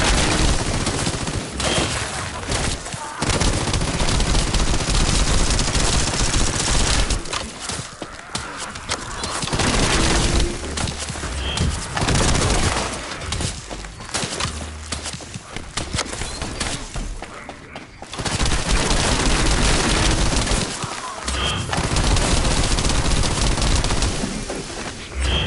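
Enemies in the looter-shooter game The First Descendant keep up sustained gunfire, dense loud volleys of rapid shots in long waves with brief lulls between, close and continuous.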